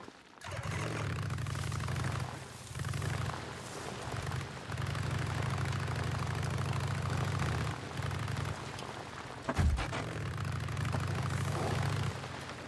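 A motorcycle idles in the video game Days Gone, a low steady rumble that drops out briefly a few times and then returns, loud and continuous with no speech over it.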